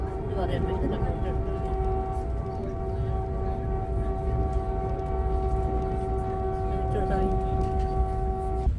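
A Vande Bharat Express train runs past Kanpur Anwarganj station, with a steady rail rumble and a long, sustained horn tone that holds throughout, heard from on board.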